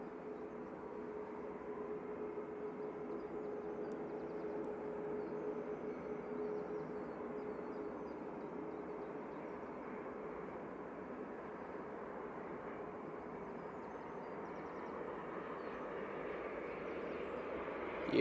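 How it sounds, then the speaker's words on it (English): Qatar Airways Boeing 787-9 Dreamliner arriving from Doha on landing approach at Manchester Airport, a steady broad jet roar held at even loudness throughout, no voices. "Alright, next in, we have the Qatar Dreamliner coming in from Qatar."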